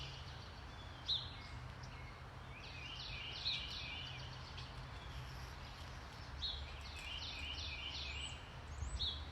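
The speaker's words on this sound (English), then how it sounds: "Noticing the birds." Birds singing in a backyard in Albany: scattered, faint high chirps and short song phrases at a distance, recurring every few seconds over a steady outdoor background hush.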